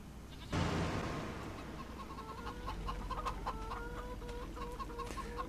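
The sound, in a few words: chickens clucking in Farming Simulator 25 video game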